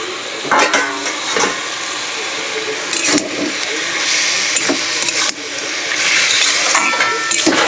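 Fried eggplant stirred into fenugreek greens frying in oil in a pan, making a loud, continuous close sizzle with recurring spatula scrapes and clatter.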